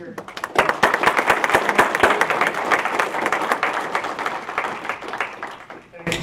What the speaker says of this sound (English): So a big round of applause for our speaker